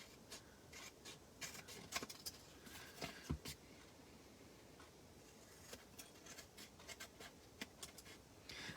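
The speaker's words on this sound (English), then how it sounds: "you're just going to cut right along the edge of your, in this case, Magenta Madness cardstock" Scissors cutting along the edge of Magenta Madness cardstock, a series of soft snips and papery scraping close by in a quiet room, irregular and fairly faint.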